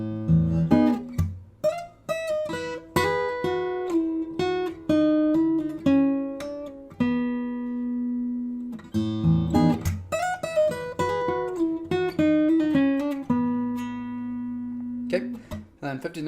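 Acoustic guitar playing a fingerstyle passage from a piece slowly, with ringing plucked notes and sustained chords, close and clear, no voice.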